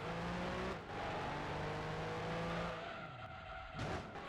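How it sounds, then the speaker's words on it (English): In Gran Turismo 2, a TVR-era race car loses control and nearly spins, its tires squealing and skidding loudly over a droning engine, then the screech cuts and the engine revs back up. "He lost control of the car. Nearly spins out."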